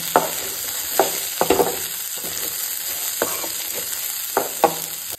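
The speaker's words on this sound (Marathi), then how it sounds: "हितून घालता आतां भाजी. तर ही बी न्ही मातशी मिक्स करून घेवया." Vegetables with dal and potato frying in a pan for a Goan festive vegetarian dish, steady sizzle beneath repeated sharp scrapes and knocks of a spoon stirring at irregular intervals, close and clear with no talk.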